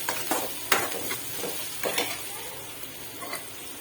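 Soft sizzling of onions frying in oil in a pan, broken by a few sharp stirring scrapes and clinks, close by and fairly quiet.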